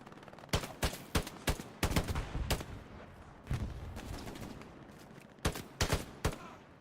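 Gunfire in Hell Let Loose on Omaha Beach, sharp loud shots in quick bursts and single cracks. Pauses of a second or two separate the bursts, with background battle noise between them.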